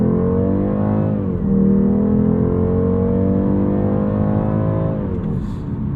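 A BMW G42 220i Coupe accelerating hard in first gear, its engine note rising steadily and loud from the cabin, easing briefly, then climbing again before falling away near the end, with no talking.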